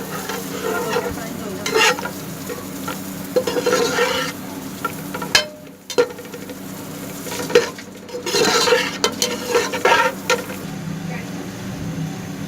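Onions fry in a pan with a bright sizzle, broken up by repeated scraping and clattering as they are stirred.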